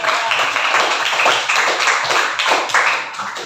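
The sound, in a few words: classroom applause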